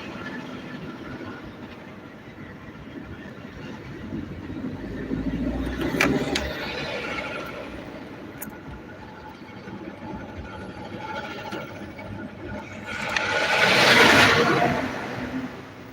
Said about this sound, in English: That truck sound raggedy.